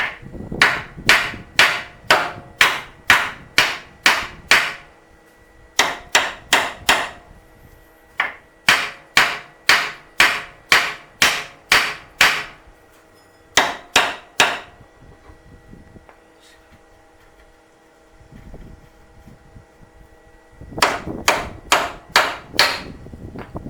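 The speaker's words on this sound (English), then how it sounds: "Now we're going to take and hit on the knuckle right here." A hammer strikes the steering knuckle of a 1997 GMC Jimmy during ball joint replacement, loud sharp metallic blows in rapid bursts of about six to eight hits separated by short pauses, close and alone.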